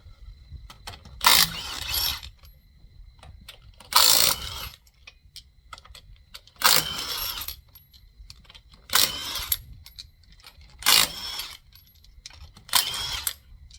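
Ratchet clicking and wrenching on the wheel nuts of a Nissan NP300 Navara, six separate loud bursts of mechanical ratcheting spaced a couple of seconds apart, with quiet gaps between them.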